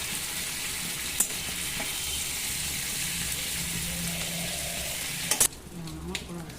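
Shrimp sizzle loudly in a pan of oil with occasional clinks of a stirring spatula, and the frying noise drops off sharply near the end.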